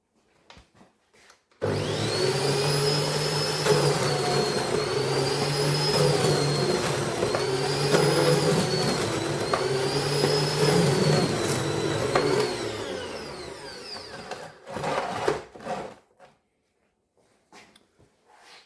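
An electric slicer cuts slices from a white sourdough loaf, its motor whirring steadily and close for about ten seconds with a faint rhythmic rise and fall as each slice passes, then stopping, followed by a few short handling knocks.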